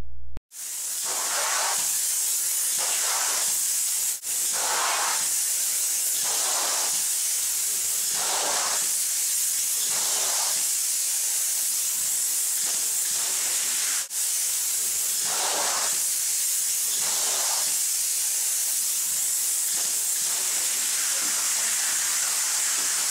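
A loud, sustained hiss of open-cell spray foam insulation being applied runs for the whole stretch, pulsing in regular bursts as the spray sweeps back and forth.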